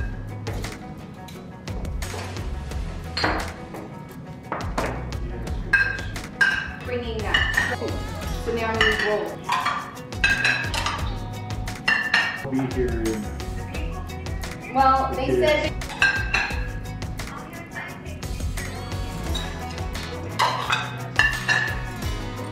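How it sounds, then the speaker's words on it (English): New soup spoons clinking and clattering against one another and against dishes as they are dried and stacked at home while setting up a dinner party for ten, with a steady run of metallic chinks and some talk underneath. "I just washed all the new soup spoons, so now I'm just drying them off and getting them down too."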